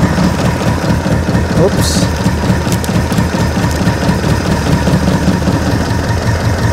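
An old Harley Sportster motor starting for the first time in 10 years runs roughly, with a loud, close, uneven chugging idle and a knocking pulse that continues throughout, and a brief spoken word is heard over it.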